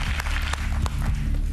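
A short burst of clapping for a school band on a Greek TV show, close and fairly loud over a low background, lasting under two seconds.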